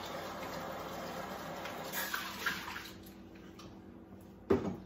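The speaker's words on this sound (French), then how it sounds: "je rince toujours mes affaires" Running water pours from a tap as items are rinsed, a steady close hiss that fades out partway, followed by a few soft clatters and a brief splash near the end.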